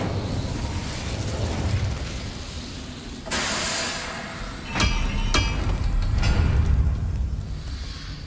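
A fire spell cast in the Hogwarts Legacy video game gives off sharp bursts and whooshing flares, with a few bright crackling hits over a steady rumbling game background and no talk.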